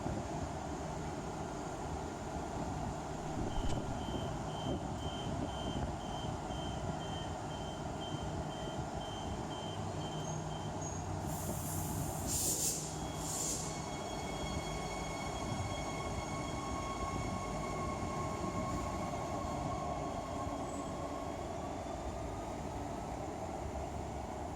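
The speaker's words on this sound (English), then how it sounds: "Let's get a good view of the train as it departs." A 3-car suburban electric train for Perth, set 50, pulls away from platform 1 at Cockburn Central Station with a steady, broad rumble, a few chimes and squeals over it, heard alone and at moderate distance.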